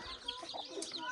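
A rooster clucks faintly in a rural yard, with soft short calls under low background noise and a little distant talk.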